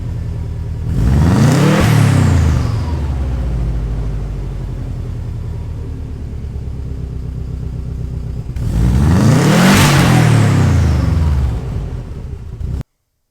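A Subaru WRX with a Thrush tube exhaust revs loudly in two strong bursts, each climbing and falling, over a steady rumbling idle close by.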